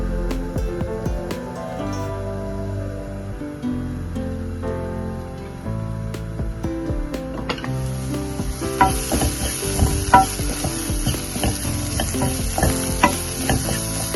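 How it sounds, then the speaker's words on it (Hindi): Spices roasting on a low flame for a paneer gravy made without tomatoes, with a steady gentle sizzle and frequent scraping stirs that grow busier and brighter partway through, alone without talk. "धीमी आंच पे 1 मिनट मसालों को हल्का सा भून लेंगे।"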